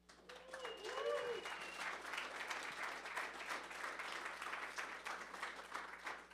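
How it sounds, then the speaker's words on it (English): Audience at a community event space bursts into steady applause lasting several seconds, with a few voices and a whistle rising briefly over the clapping. "Can we get a round of applause for the guys that run this space?"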